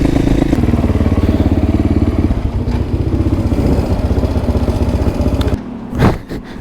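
A motorcycle engine runs loud and close with a rapid, even pulsing beat while riding, then drops off abruptly near the end, leaving a brief rumble and wind.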